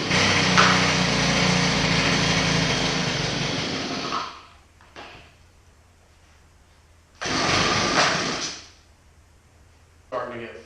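A Shindaiwa string trimmer with its air filter removed and choked by hand sputters into a loud, high-pitched two-stroke run for about four seconds, cuts out, then catches again in a brief burst and a short final blip.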